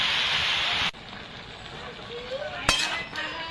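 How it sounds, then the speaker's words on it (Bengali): Chunks of cabbage and potato frying in a pan for a fish curry: an intense sizzle that drops suddenly to a softer crackle, then a sharp metallic clink of a utensil against the pan, with a brief voice. "ভালো করে কপিটা একটু ভেজে নিতে হবে।"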